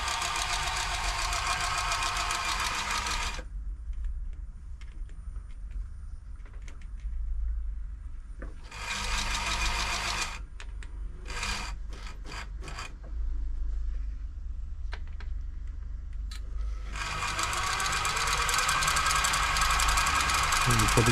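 A New Home L 312 sewing machine runs after servicing, in long bursts of close, loud, steady mechanical whirring and clatter separated by quieter stretches with clicks and handling.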